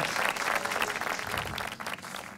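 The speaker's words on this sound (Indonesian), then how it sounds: "Ayo dong semangat tepuk tangan dong, tepuk tangan dong" An audience at a stand-up comedy podcast show claps steadily throughout, a dense, continuous wash of applause from a crowd, fairly even in loudness with no voices standing out.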